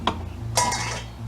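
A spoon scrapes and clinks against a pot while ground beef is mixed into homemade Southern spaghetti sauce, two short metallic knocks followed by a brief wet stirring swirl, close and alone.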